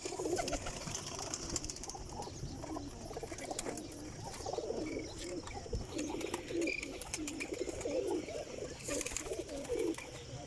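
Pigeons coo steadily in a loft, their soft throaty calls repeating and overlapping throughout, with occasional faint chirps and light rustling in the background.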